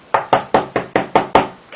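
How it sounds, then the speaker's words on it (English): Rapid, steady knocking on a door, about eight sharp raps in under two seconds, loud and close, each hit a crisp broadband thud with a short decay, no voices present. "And then the knocking was like getting harder"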